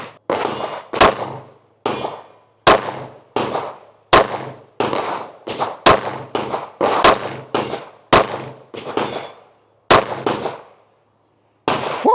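A Jacob Grey Hex Pro 2011 pistol fires at an outdoor range, about a dozen sharp, loud shots in an uneven rhythm with echoing tails and brief pauses between them.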